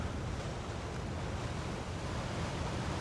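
Wind and sea swell at a rocky cove in springtime, heard as a steady, broad roar of surf and gusting air that fills the whole span without a break and with no voices.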